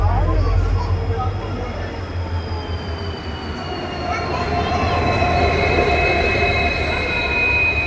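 A train rolls past loudly with a heavy rumble, wheels squealing in high drawn-out tones over the steady clatter of the cars.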